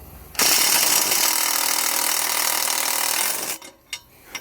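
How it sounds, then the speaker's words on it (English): A ratchet tightens down a washer and nylon lock nut on a floating dock lift ladder: one loud, continuous rapid clicking run of about three seconds, followed by a few separate clicks. "I'm going to put a washer and nylon lock nut. And we'll tighten those down."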